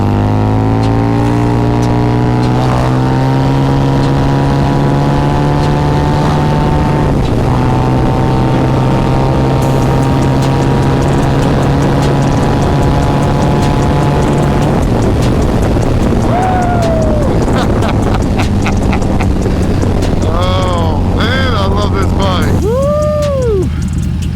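A Harley-Davidson V-Rod Muscle fitted with a TAB Performance exhaust is ridden in second gear. Its steady, droning engine note steps up in pitch a few times and later rises and falls sharply, with wind rushing past throughout.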